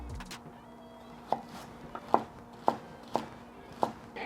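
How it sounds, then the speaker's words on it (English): A knife cuts celery on a cutting board in close, crisp chops, about six sharp thuds spaced roughly half a second apart over a quiet kitchen background, with no talk. "Now for our celery. Cut in half, cut in half again,"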